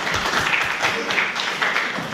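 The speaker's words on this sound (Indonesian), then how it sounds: "ya aplaus buat beliau" Brief applause for a speaker at a student discussion on Pancasila, a short burst of scattered clapping in a room, moderately loud and alone.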